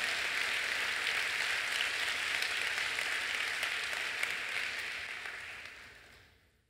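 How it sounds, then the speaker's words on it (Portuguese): Dense applause from a church congregation fills the space at a steady level, then thins and fades out over the last second. "Você pode dar uma salva de palmas?"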